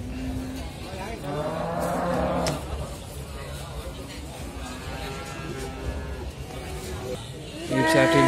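Large lemon cattle at the Muntilan livestock market in Magelang give out several drawn-out moos amid a busy background, with a person talking nearby between and over the calls.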